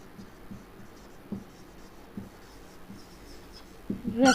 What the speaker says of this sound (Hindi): यहाँ पे मैं लिखती हूँ